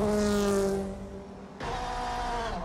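A turbocharged all-wheel-drive car drag races an old El Camino, engines roaring hard together for about a second, dropping away briefly, then surging back with a raspy high-revving blare.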